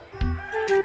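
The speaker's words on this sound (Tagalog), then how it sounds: "Manok ni." A chicken gives two short, soft clucks close by, over a quiet background.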